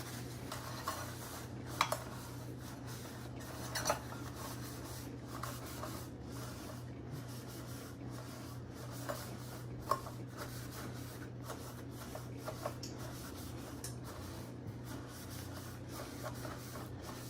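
Steady soft rubbing and wiping of a pan with a paper towel in a kitchen, with faint scraping and occasional light clinks, continuous and close, with no voices.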